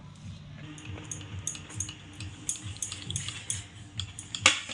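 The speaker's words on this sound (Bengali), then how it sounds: "দুধ দিয়ে শুকনো উপকরণগুলো খুব ভালো করে একসঙ্গে মিশিয়ে নেব।" Milk being mixed into dry flour for a pitha batter in a bowl, heard as a steady rhythm of spoon clinks and scrapes against the bowl with soft wet stirring, close and fairly quiet.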